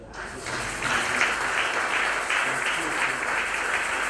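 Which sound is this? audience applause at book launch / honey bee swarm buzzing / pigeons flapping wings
audience applause at book launch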